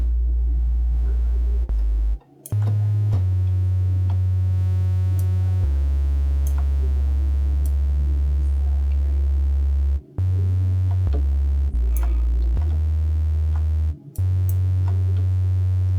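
A deep synthesized 808 bass tone from a beat-making session plays as sustained low notes that change pitch, loud and close, with brief gaps between phrases and faint higher clicks above.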